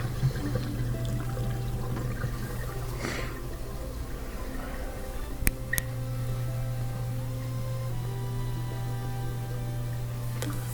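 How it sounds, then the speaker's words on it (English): Steady rushing and gurgling of water draining from a GE dishwasher via its drain pump, over a constant low motor hum, with a couple of brief clicks midway. "The drain motor's working, and it can get rid of that water really fast."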